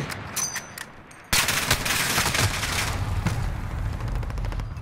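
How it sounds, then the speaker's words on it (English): Rapid automatic gunfire from teammates in Call of Duty, a dense, loud burst of overlapping shots that erupts suddenly after a quieter stretch of scattered pops and keeps rattling without pause. "Why are all of our teammates just shooting at each other, bro?"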